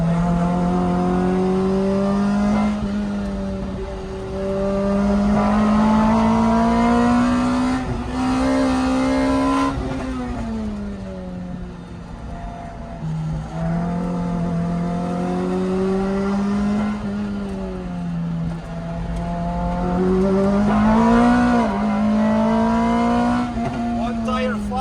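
A car engine drones loudly on a race track, its pitch rising under acceleration and dipping as the driver lifts off into corners, with the engine note swelling and falling repeatedly.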